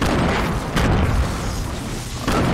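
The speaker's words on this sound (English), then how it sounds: "I'm gonna nade it." A grenade blast in the Fortnite video game booms loudly up close, with a heavy crashing roar that swells twice over a couple of seconds.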